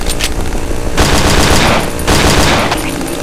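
Rapid automatic gunfire from the horror video game Cry of Fear, loud sustained bursts with brief gaps between volleys and no talking.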